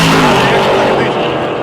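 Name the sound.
drag race cars, yellow Chevrolet Nova racing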